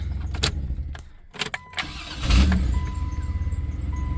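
A 1993 Dodge Caravan engine cranks briefly then catches, its starter not fully disengaging, settling into a steady rapid idle chug; a few clicks and clunks come before it, close up, no talking.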